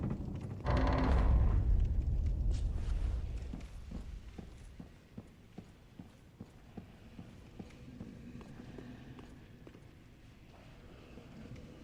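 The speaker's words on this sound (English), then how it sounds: "Oh, freaking giant horse." Heavy, evenly spaced hoofbeats of a giant horse in Dark Souls 3 thud along steadily after a loud rumbling start of a big door opening, echoing like a giant horse walking.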